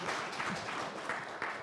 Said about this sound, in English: Maybe you can clap for our board member.